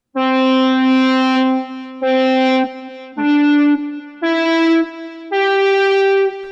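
Electric guitar volume swells played with the volume control: five sustained notes in a rising sequence, each fading in smoothly and cut off, clear and close with no voices.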